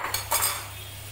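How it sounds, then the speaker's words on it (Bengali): Utensil scraping and clinking against a pan while fried potatoes are worked together with spices, a couple of quick close metallic scrapes over a steady low hum, no voices. "আলুগুলো কষে নিতে হবে মশলার সাথে।"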